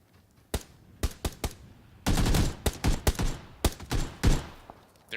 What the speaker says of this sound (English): They're actually shooting at his teammates.